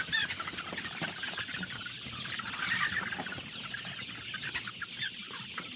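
Chickens on a poultry farm cluck and cackle continuously, a dense overlapping chorus of many birds close by, with no talk.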